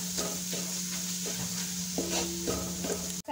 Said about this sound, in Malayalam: ഇത് ഒഴിച്ചു കൊടുത്തിട്ട് മസാല തൂത്ത് അതിൻ്റെ പച്ചമണം മാറുന്നത് വരെ നന്നായിട്ട് വഴറ്റി കൊടുക്കുക.